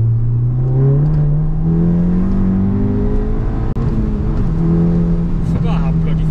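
A VW Golf GTI with a 2-litre engine and a loud aftermarket exhaust accelerates nearby, a steady droning engine note rising in pitch over several seconds with a brief break partway through.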